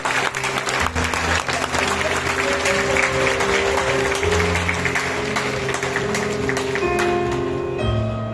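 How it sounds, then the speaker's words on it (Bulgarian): Strong, sustained applause from a wedding crowd honoring the bride's father fills the whole stretch, loud and dense, with music playing underneath. "силни аплодисменти за уникалния баща на нашата булка, за татко Радослав"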